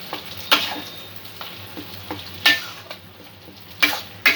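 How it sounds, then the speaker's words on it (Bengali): Chana dal sizzles softly in a pan while a spoon stirs it, with scraping strokes arriving in irregular bursts over the gentle frying hiss. "ডালটা যতক্ষণ না হালকা ব্রাউন কালার আসছে, ততক্ষণ আমি পাক দিতে থাকবো"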